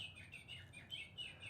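Bird clock chiming on the hour with a recorded house finch call, a faint run of quick warbling chirps over low background hum.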